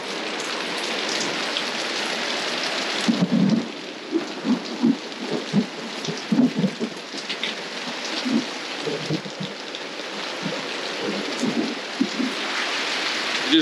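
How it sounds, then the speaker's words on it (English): Hail and heavy rain drum steadily on the roof of a caravan in Australia, a dense, loud clatter throughout, with low rumbles of thunder rolling in and out under the pounding. "If you're unlucky enough to get caught out in a hailstorm, which is what we're sitting in at the moment"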